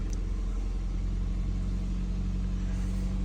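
A 2013 Toyota Corolla, fixed after an ignition coil wiring fault that let it crank without starting, idles steadily with a close, even low rumble and no talk.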